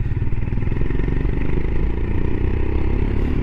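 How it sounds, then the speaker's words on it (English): A Royal Enfield Himalayan motorcycle runs close by with a throaty exhaust, giving a steady, loud, pulsing rumble at low revs with no talk over it. "I do like the sound of this exhaust."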